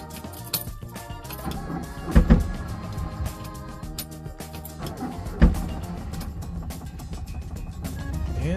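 A 1972 Fiat 500L engine idles after a cold start following a month in the cold, a steady, busy mechanical running sound with a couple of louder revving bursts near the start and middle.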